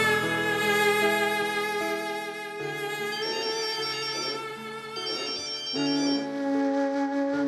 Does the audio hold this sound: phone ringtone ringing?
yes